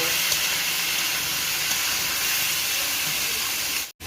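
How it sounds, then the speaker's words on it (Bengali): Duck meat fries in a pan with turmeric powder and salt, a loud, dense, continuous sizzle and hiss that holds steady before cutting off abruptly at the end. "মাংস হলুদ গুঁড়া লবণ দিয়ে মাংস ভেজে নেব"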